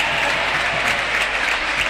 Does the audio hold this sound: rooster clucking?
no